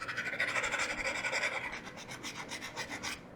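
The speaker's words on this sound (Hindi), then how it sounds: "एक रेतमाल ले लो, और इस रेतमाल से क्या करो, इस काले कलूटे मैग्नीशियम को रगड़ना चालू करो" Sandpaper rubbed back and forth on a small strip of blackened magnesium, a close, rhythmic rasping scrape in quick even strokes with no talk.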